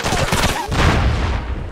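Rapid gunfire bursts from the SOCOM Combined Assault military shooter, loud and dense, with a brief lull before another heavy volley.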